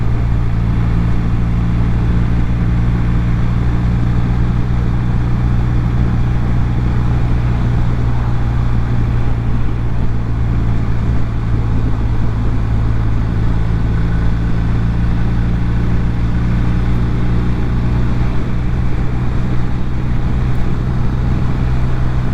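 A vehicle driving on a busy road at about 55 mph, with steady, loud engine drone and road and wind roar that continues unbroken throughout.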